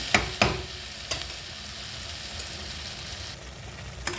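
Potatoes being sautéed in a pan for an egg curry, a faint steady sizzle with a few sharp clinks of a spatula against the pan.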